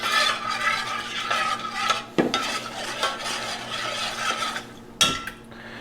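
A spoon scrapes and clinks against a metal pot while a bourbon maple glaze made with Jim Beam is stirred, giving close, irregular scraping strokes with a few sharper knocks.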